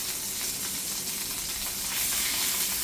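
Pot roast meat sears fat side down in a hot pan, giving a steady, close sizzle and crackle that rises slightly toward the end, with no talking over it.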